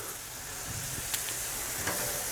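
Pork steaks glazed with berry sauce sizzle steadily on a grill right after being flipped, giving off a soft, continuous hiss with a couple of faint pops and no talk.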